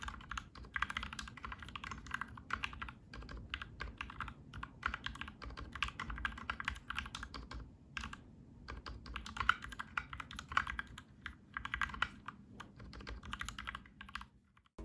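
Continuous fast typing on a custom 60% gaming keyboard fitted with lubed Gateron Black Ink switches, a dense, steady stream of close, smooth keystrokes with brief pauses, no voices.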